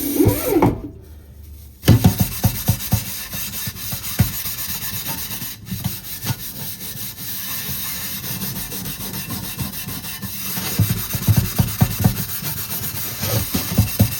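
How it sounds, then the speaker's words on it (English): Rusty EWSLLC metal kitchenware being scrubbed by hand, a close, rough back-and-forth rubbing in quick repeated strokes with a short quieter pause near the start, and no voices. "So let's basically scrub on the other side"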